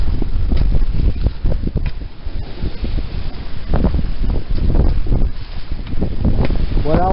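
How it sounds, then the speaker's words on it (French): Loud wind rushes across the microphone while waves splash and slap against a sailboat at sea off Cape Verde, a continuous roar with irregular surges. "le bruit du vent, le bruit des vagues"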